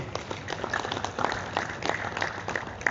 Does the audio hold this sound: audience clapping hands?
yes